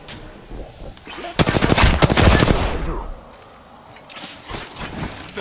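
Rapid automatic gunfire in the Apex Legends battle royale shooter, a loud sustained burst in the middle with sharper scattered shots before and after.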